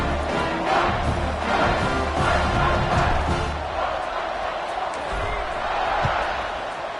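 A football stadium crowd in the video game NCAA 26 roars steadily, a broad loud wash of cheering that persists throughout with a few thuds, while a commentator talks over it.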